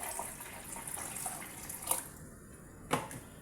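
Warm water poured from a measuring cup into a bowl for chapati dough, a soft running splash with a couple of brief clinks, close and alone.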